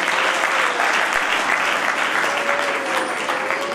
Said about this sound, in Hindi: एक बार जोरदार ताली से स्वागत